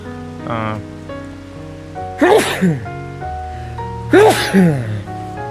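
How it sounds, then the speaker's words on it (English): Two loud sneezes, each a sharp burst with a preceding breathy intake, over a faint background hum; a short vocal sound comes first. "big sneeze"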